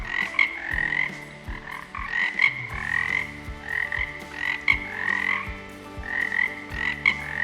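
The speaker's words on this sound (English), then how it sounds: "distinct calls of frogs and toads during the spring and summer breeding seasons" Frogs and toads call together in a wetland chorus during the breeding season, with repeated rhythmic croaks layered over steady trills, continuous and fairly close with no voices.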